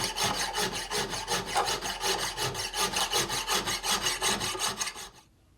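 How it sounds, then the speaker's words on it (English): Chainsaw files working into Goncalo Alves wood while shaping a block plane, giving a rapid, even back-and-forth rasping rhythm, close and continuous before stopping abruptly. "use a lot of chainsaw files for this just because they cut fast and they have safe edges on them already"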